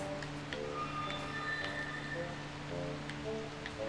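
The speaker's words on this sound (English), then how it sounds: "And the rain is back." Rain patters steadily in the video game Projection: First Light, a soft, even wash under faint musical tones, with no talk.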